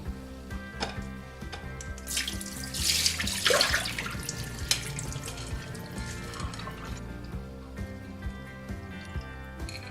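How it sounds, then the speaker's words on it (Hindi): Soaking water pours and trickles out of a batch of wheat grains that swelled after a full day of steeping for sprouting. A steady splashing flow rises mid-clip, then settles into lighter dribbling and drips, with no talk. "और अब मैं इसका ये पानी ड्रेन कर लूंगी।"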